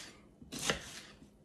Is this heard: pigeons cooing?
no